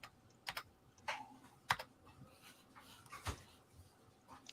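Scattered keystrokes on an old computer keyboard, clicking in short irregular bursts at close range, with faint background noise between the taps.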